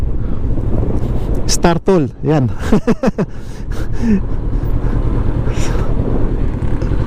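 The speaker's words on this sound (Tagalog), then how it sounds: "ang challenge natin ay itong sobrang napakalakas na hangin" Strong wind beside Mount Makiling buffets the microphone with a loud, constant low rumble, while someone talks over it briefly in the middle.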